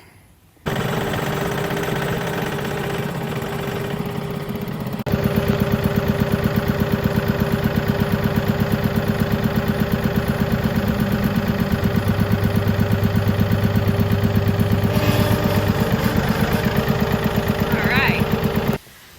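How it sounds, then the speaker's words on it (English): A loud, steady tractor engine idles and runs with a rhythmic mechanical chug, continuous throughout after a sudden start, close by. "I'm gonna have to use the tractor to push all this"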